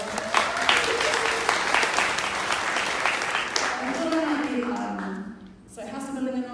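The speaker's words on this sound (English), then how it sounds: "round of applause" Audience gives a round of applause, dense and sustained clapping for several seconds, then fades as a voice begins speaking near the end.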